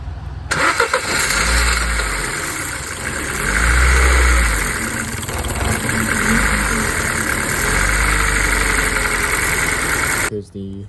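Ford Focus Z-Tech from 2006 running roughly at idle with its MAF sensor wire disconnected, a steady, loud engine drone with low uneven pulsing that carries on throughout, then cuts off at the end.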